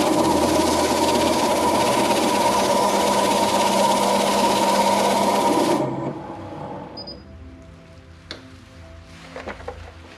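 A wood lathe with a spiralling texturing tool spins at 500 RPM, giving a loud steady whirring hum with a rough grinding edge that cuts off suddenly, followed by faint clicks and handling noises.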